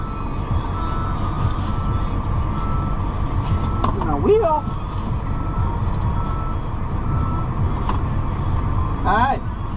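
Reversing beeps from an agricultural sprayer vehicle, a rapid steady beeping continuing under a loud engine rumble, with a person talking briefly nearby.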